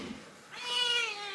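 A cat meows once, a drawn-out, rising cry close by in a quiet indoor room, with no talking.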